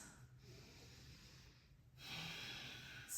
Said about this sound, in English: Let's do 2 more breaths.